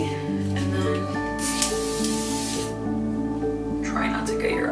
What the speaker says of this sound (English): you grab finishing spray